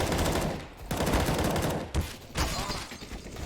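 Rapid gunfire bursts from a 5v5 competitive tournament match in a tactical shooter game, with dense overlapping shots during a rush onto a bomb site, loud and continuous with brief pauses between volleys.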